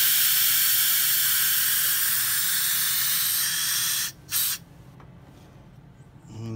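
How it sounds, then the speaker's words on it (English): School bus driver's air-suspension seat being lowered, a loud steady hiss of escaping air that cuts off abruptly, followed by a brief puff and quieter mechanical sounds. "gotta lower the seat"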